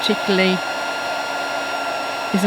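Handheld embossing heat tool blowing hot air for a papercraft project, a steady close whooshing hiss running the whole time, with faint brief tonal sounds near the start and end.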